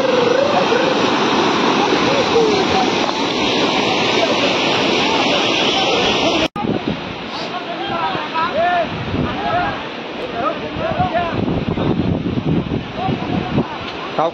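Loud rushing water pours down a rocky stream slide at Borya's rock near Beloshi village, a continuous broadband roar up close with a brief break partway through.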